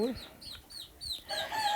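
Backyard chickens on a small farm, including French-bred hens, giving a few quick clucks and chirpy calls close by, fairly faint and brief.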